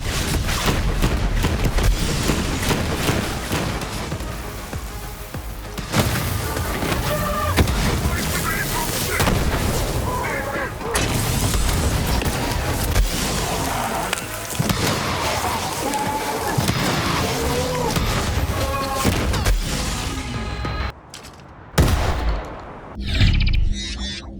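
Shotgun and other gun blasts from a cartoony first-person shooter fire repeatedly and loudly, layered with explosions and game effects, with a narrator talking throughout.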